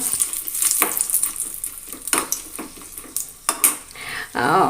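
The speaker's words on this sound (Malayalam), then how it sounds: "ചൂടായ വെളിച്ചെണ്ണയിലേക്ക് നാല് വറ്റൽമുളക് ഇട്ട് കൊടുക്കുന്നുണ്ട്" Dried red chillies sizzling in hot coconut oil, with a steady close frying hiss, scattered clinks of a metal spoon against the pan, and stirring scrapes; a brief voice can be heard near the end.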